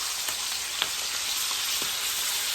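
Sous vide steaks searing in a hot iron skillet, a close, dense, continuous sizzle with faint pops and crackles running steadily throughout, with no voices.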